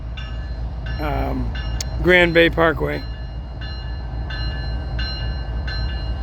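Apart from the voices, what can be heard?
FECR train passing a crossing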